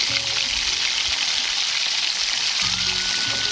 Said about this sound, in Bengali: দেখো মাছটা ভেজে নিয়ে ওই কড়াতেই মানে সজনে ডাঁটাগুলো ভেজে নিচ্ছি